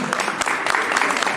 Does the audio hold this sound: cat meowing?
no